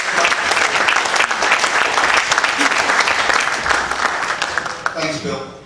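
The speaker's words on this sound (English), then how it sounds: "A big round of applause." Audience at a South Melbourne FC VIP function breaks into sustained applause, dense and fairly close, tapering off near the end as a voice begins.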